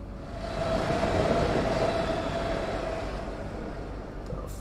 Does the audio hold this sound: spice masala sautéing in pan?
no